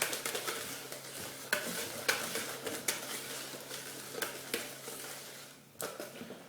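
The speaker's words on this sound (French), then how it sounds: "Donc on va pouvoir recommencer à battre le mélange." Yogurt cake batter beaten in a bowl, with a quiet series of irregular clinks and scrapes of the utensil against the sides, close by and faint, with no talking.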